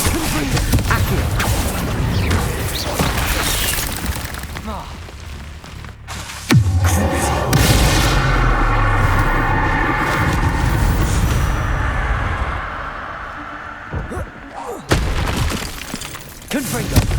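Confringo explosion spells in the Hogwarts Legacy video game go off as heavy booms with crackling, shattering debris, several blasts in a row amid other game effects, with a voice speaking over parts of the action.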